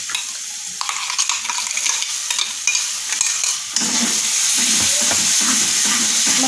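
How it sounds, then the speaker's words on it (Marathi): Tomato puree frying in oily masala for a rohu fish curry, a steady loud sizzle with scraping stirs, growing denser and hissier partway through as the puree hits the hot oil. "प्युरी पण आपल्याला तेल सुटेपर्यंत मसाल्यामध्ये छान तळून घ्यायची आहे।"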